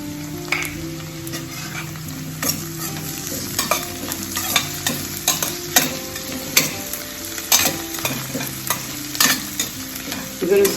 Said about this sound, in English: We're going to saute them for a while and allow them to rest for a while in the pan